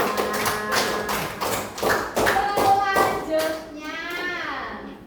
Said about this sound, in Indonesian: Benar, tepuk tangan buat Rasya.